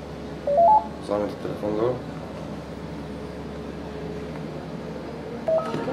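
Telephone keypad tones, a quick run of short stepped beeps near the start and another brief beep at the end, heard under Slovenian conversation about identification at a student meal-voucher phone service.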